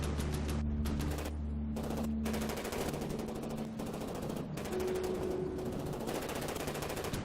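Sustained automatic gunfire and cannon fire from tanks in the From the Depths naval and vehicle combat game, a dense continuous barrage with booming low rumble, loud and steady throughout.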